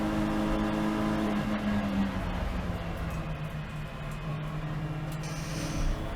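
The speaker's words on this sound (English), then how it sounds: "there's a car in the pit lane" Race car engine droning steadily in a pit lane at a club racing trophy meeting, a continuous close engine hum with shifting pitch and no talking.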